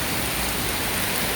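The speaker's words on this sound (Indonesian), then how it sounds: "Masya Allah ya, hujannya sangat deras. Derasnya luar biasa." Heavy rain pours down in Hong Kong as a dense, loud, continuous hiss of drops striking surfaces close by, steady for the whole moment.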